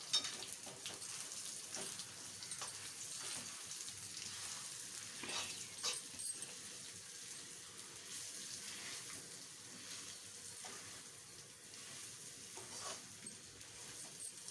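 Cashew powder roasting in a pan for sugar-free date laddu, a steady soft sizzle with light scraping and stirring throughout, moderately close with no talking.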